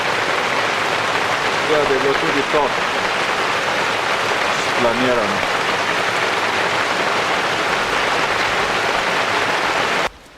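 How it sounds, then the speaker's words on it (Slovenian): Rain mixed with snow falling outside a small mountain lodge on a Langtang trek in the Nepal Himalaya, a dense steady hiss that runs unbroken, while someone talks briefly over it. "slišite, kako šumi dež, zunaj pa pada dež s snegom."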